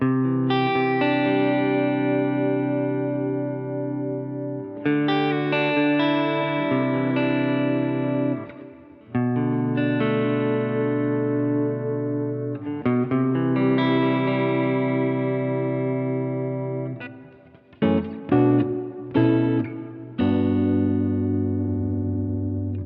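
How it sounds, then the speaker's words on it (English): Sustained electric guitar chords through a Strymon Cloudburst reverb pedal ring out in a wash of long reverb with modulation, a gentle wavering shimmer as the notes decay into one another. "When we get into the longer reverbs, the modulation can be nice to add a little sense of movement in there"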